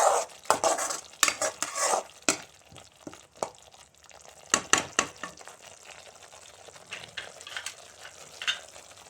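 Cooking sounds from a pan: oil and tamarind paste boiling until the oil separates, bursts of sizzling and bubbling with occasional stirring clatter, loud and close, no talking.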